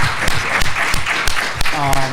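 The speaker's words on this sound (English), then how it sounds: "Let's give Scott Robert and Color of Change a round of applause." Audience applause at a conference session breaks out in scattered bursts of clapping, with a voice speaking over it near the end.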